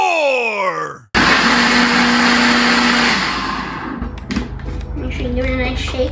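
A blender whirs loudly on watermelon after a sharp start, runs steadily, then winds down while someone begins talking and other kitchen noise takes over near the end.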